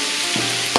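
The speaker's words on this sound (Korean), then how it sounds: "지글지글 맛있게" Bean sprouts and cabbage sizzle hard in a hot pan while being stir-fried for fried noodles, a steady close crackle with a couple of sharp scraping stirs near the end.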